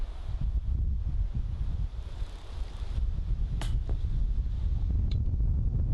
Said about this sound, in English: Oh, that wind just lifted it all the way.